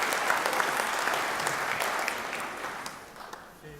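A crowd at a football Hall of Fame presentation claps, a fairly faint, steady patter of many hands that slowly thins and fades toward the end.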